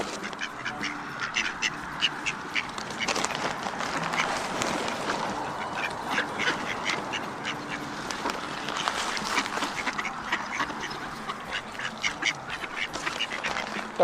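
A procession of ducks at a bog heading closer, quacking repeatedly in overlapping bursts that run steadily throughout, mid-distance and fairly clear over outdoor ambience.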